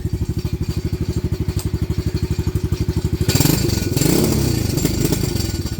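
A Venom Madix 125 motorcycle with a carburettor problem chugs close by in a lumpy, evenly pulsing idle, then surges into a rougher, louder rev partway through.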